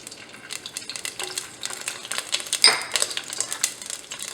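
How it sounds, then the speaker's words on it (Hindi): Garlic paste sizzles and spatters in hot oil in a pan, a steady crackling fry with a sharper burst midway, close and fairly loud with no talking. "तेल गर्म होती है मैं डाल दूँगी पहले लहसुन की पेस्ट"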